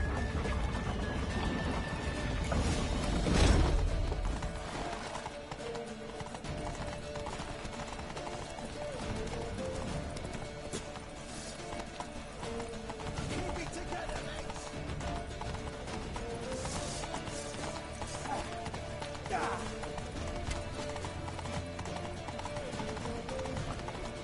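Hooves clatter in a steady galloping rhythm from a horse in The Witcher 3, running under game sounds and scattered voices, with a loud thump early on.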